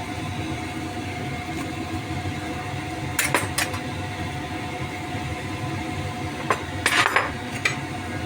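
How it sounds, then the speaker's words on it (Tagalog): Metal utensil scrapes and clinks against a pot of winter melon soup with straw mushrooms in a few short bursts, over a constant low background hum. "Haluin mo lang siya at hayaan kumulo ulit."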